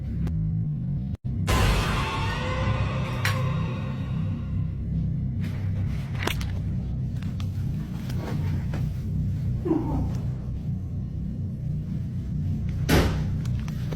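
A few separate thumps of doors closing, spaced out over a steady low rumble, moderately close.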